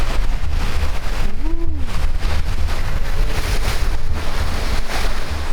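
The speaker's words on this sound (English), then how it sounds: "Surfing down the waves." A sailboat surfs down Atlantic Ocean waves, rushing water and heavy wind noise roaring loud and continuous, with a short rising-and-falling tonal whine in the middle.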